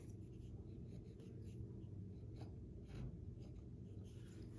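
Soft, scratchy strokes of a pencil rub across paper in a quiet, uneven rhythm, close and faint.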